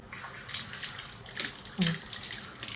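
Tap water runs steadily in a campsite toilet block at a remote village campground in Gopeng, Perak, a close, continuous splashing hiss that swells in brief surges.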